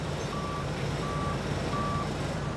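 An asphalt delivery truck reverses with three evenly spaced reversing beeps over its steady engine rumble, near and clear.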